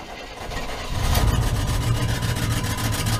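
A 1977 Chevy Impala engine, with exhaust leaking out of the fender well, idles with a low, rumbling throb, then revs up to a steadier, louder hum and keeps running close by.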